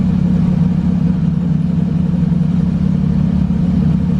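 A turbocharged LS-swapped Mustang engine idles steadily on a dyno, a loud, even low rumble with a constant throb and no speech.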